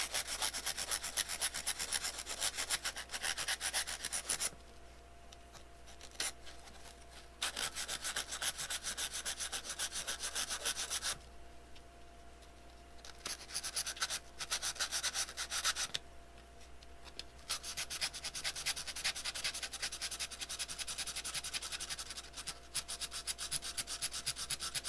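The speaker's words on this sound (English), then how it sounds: "So, it's getting sanded. Oh, but the sanding block fits in there so nicely." Sanding block rubbed over a laser-engraving jig, steady rasping strokes in long bursts separated by brief pauses, close and fairly quiet with no voices.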